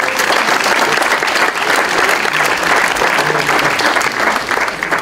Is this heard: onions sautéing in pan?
no